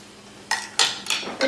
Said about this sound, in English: once in a while I stir them a little bit to make sure that they get evenly